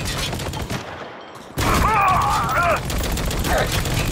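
Gunfire during a bridge battle in the military shooter Spec Ops: The Line, heard as a loud, dense rattle of shots after a brief quiet gap, with a voice shouting over it.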